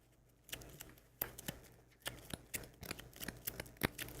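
Cards for the Frosthaven board game are shuffled by hand, a quiet run of irregular riffling flicks and snaps spaced across several seconds, with no talking.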